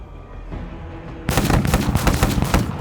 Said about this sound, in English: We are under heavy fire.